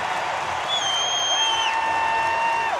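An Oklahoma State crowd at a college wrestling duel against Iowa cheers and applauds in a dense, loud roar, with a steady wash of noise and shrill whistles rising above it.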